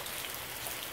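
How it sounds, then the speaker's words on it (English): Rain falls steadily on a rainy day in Tennessee, a dense, even patter of raindrops that fills the whole second with no talk over it. "It's a rainy day in Tennessee."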